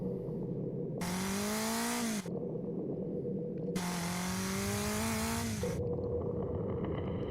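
A Honda car engine revs twice in a music video, each roughly one-second burst rising in pitch before cutting off, over a steady bed of background music.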